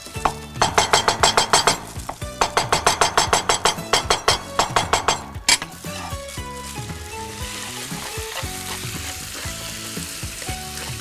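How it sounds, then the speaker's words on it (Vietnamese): Vegetarian spring roll filling, ginger and oil with no garlic, stir-fried in a pan: a loud steady sizzle, with rapid rhythmic scraping and clinking of the spatula for the first half before it settles into continuous frying. "Ta đảo đều cho nóng lên và chín như nói lúc nãy đó"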